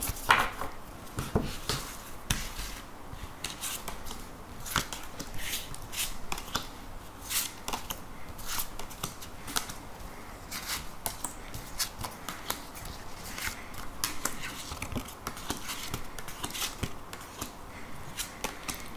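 Tarot cards are shuffled and drawn by hand in repeated quick riffles and soft slaps at close range, steady throughout with no talk.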